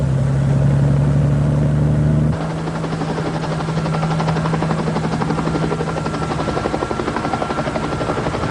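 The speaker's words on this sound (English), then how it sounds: "Helicopter 7A94 Sierra, ready for takeoff." A helicopter lifting off, its rotor thumping loud and close with a steady beat. A low engine drone drops away early and the chopping carries on alone.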